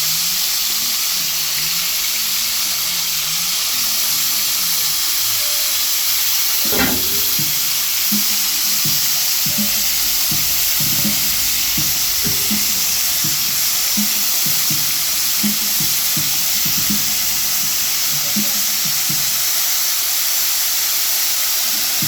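Shrimp frying in oil in a pan for party fried rice give a steady, close sizzle and hiss throughout, with one sharp clink partway through followed by a run of light, rhythmic spattering pops.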